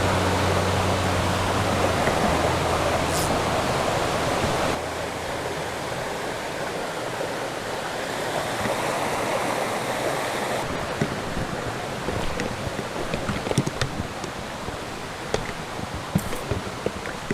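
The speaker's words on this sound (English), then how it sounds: "this should be a trout stream" Water flowing steadily in a small, low trout stream, a continuous rushing hiss that stays close and even throughout, with faint ticks and splashes near the end.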